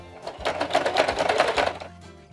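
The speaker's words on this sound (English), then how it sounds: "I'm gonna hold my threads, and then I'm gonna take a couple anchoring stitches." A home sewing machine runs a few anchoring stitches through a wholecloth baby quilt, giving a short, rapid burst of mechanical clicking and whirring that starts and stops within about two seconds, with no talk.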